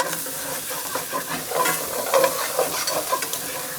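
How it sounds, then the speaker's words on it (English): Sausage browning in a pan as a utensil scrapes the browned fond off the bottom: a close, continuous sizzle broken by repeated scraping strokes, with no talking. "as your sausage is browning, make sure you scrape all that fond at the bottom of the pan off"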